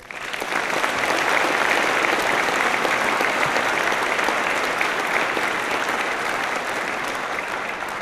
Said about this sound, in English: Please join me in recognizing these warrior musicians with a round of applause.